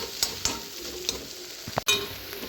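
Ground spice powder stirred and fried in a kadai for a broccoli dish, with a few sharp spatula scrapes and clinks over a low, steady sizzle, close by and with no talking.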